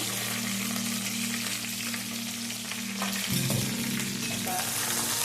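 Chicken parts frying for a pepper dry curry, a steady close sizzle under a low hum, with a few stirring scrapes midway and no talk.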